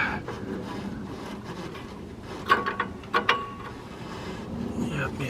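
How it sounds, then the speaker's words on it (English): A line wrench loosens brake line fittings on a Dodge Dakota, giving a few sharp metallic clinks with brief ringing around the middle, against a low, steady workshop background. "Let me use the line wrenches, break these loose, get them pulled out"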